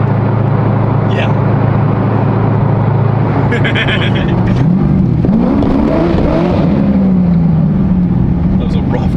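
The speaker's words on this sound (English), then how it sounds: "That was a rough downshift." Corvette C6 engine note climbing and falling through a rough downshift inside the car, a steady loud cabin drone with a rising rev swell mid-clip, voices faintly present.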